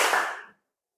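A group of people claps together in a classroom ice-breaking clap game, a single loud, sharp burst of many hands that ends abruptly and is followed by silence.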